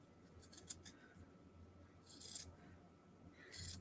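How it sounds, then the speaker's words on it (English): Scissors snip through an old shirt along its seam in three short, quiet bursts of crisp cutting separated by near silence, close up. "And we're just going to cut down that seam."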